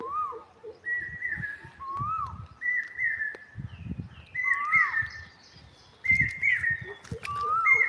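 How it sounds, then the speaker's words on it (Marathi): A Jacobin cuckoo calls repeatedly outdoors near a teak tree, clear whistled phrases of two or three notes recurring every second or so, with faint rustling and background noise between. "हा आवाज जो आपण ऐकतोय हा चातक पक्षाचा आहे"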